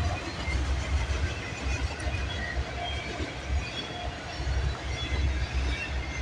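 A CN freight train with a BNSF locomotive rolls past at Bronte Street, a steady rumble of rail cars with faint wheel squeals and clacking, moderately loud and undisturbed by talk.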